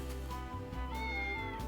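A cat meows in the video game Triangle Strategy, one drawn-out tonal call heard close and clear over a steady low game-music bed, with no talking.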